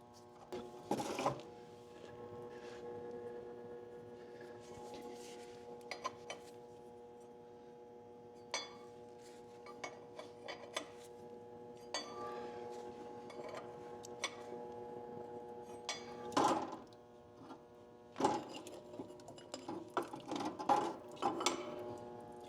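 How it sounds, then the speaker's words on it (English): An old John Deere wrench loosening drain plugs on a John Deere A tractor, with intermittent metallic ratcheting clicks, clanks and scrapes close by, separated by quieter stretches, over a faint steady hum. "a very old John Deere wrench for the sole purpose of removing"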